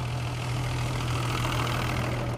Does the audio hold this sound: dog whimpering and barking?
no